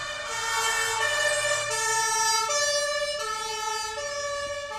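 A German ambulance siren wails steadily at a Berlin intersection, loud and close, its alternating two-tone pitch pattern cycling continuously over low traffic rumble.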